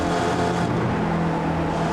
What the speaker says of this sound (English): You hear the revs climb a little bit as the weight comes off the rear end of the car